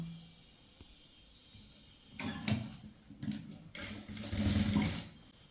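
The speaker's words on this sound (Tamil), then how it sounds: "இந்த ஸ்லீவோட எட்ஜை வந்து இந்த டாப்புக்கு மேலே வச்சு இப்படி தைக்கணும்." A sewing machine stitches a sleeve edge onto a chudithar top, running in short bursts of mechanical whirring after a quiet start, close by.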